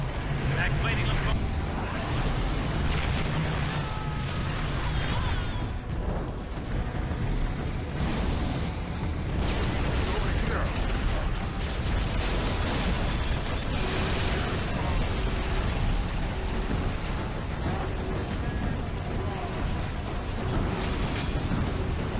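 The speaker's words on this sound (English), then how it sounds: "Once I did destroy the scarab" A giant Scarab walker is destroyed in Halo 3, setting off a long, dense, loud roar of explosions and rumbling blasts that barely lets up, with a voice talking over the din.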